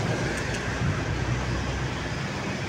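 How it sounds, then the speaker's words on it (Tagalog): An MRT 3 elevated train passes along the Boni–Guadalupe stretch, a loud continuous rumbling roar with rolling low-end wheel noise and steady broadband hiss, blended with surrounding traffic noise. "Ayan pong MRT 3."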